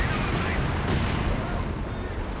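A light artillery barrage in Company of Heroes 2 gives a dense, continuous rumble of distant shelling and gunfire, loud and unbroken throughout, with a voice faintly underneath.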